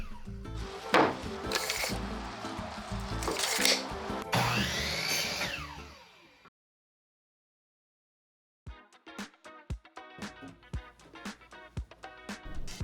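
A power saw cuts wooden baseboards in a garage, running in loud bursts with whining tones. It drops to silence for about two seconds, then gives way to a string of sharp knocks and clatters of wood being handled.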